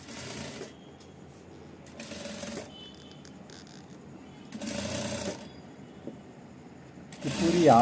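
A sewing machine stitching along a blouse collar in short whirring runs separated by pauses, close and moderately loud, with a brief rattle near the end.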